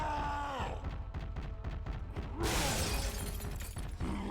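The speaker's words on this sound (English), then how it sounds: "Tank breaking some glass off a little bridge there" In Left 4 Dead, a Tank smashes glass off a bridge, a sudden bright shattering crash that bursts out midway over a rumbling, busy game soundscape, fairly loud and sustained for a second or two.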